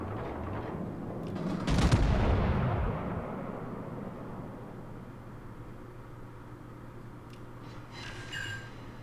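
A warship main-battery salvo in World of Warships, fired at the enemy Queen Mary: one heavy, loud boom with a long rumbling decay over a steady engine drone, then faint clicks near the end.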